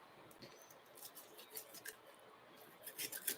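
Cutting apart a whole turkey, with quiet snipping, crisp cuts and soft rubbing close by, growing a little louder near the end, with no voices.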